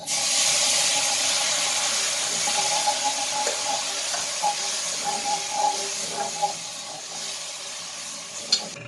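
Tripe broth poured gradually into a hot oil and flour roux for Turkish tripe soup, giving a steady bubbling hiss with small scattered pops and stirring clicks, fairly close and without talk.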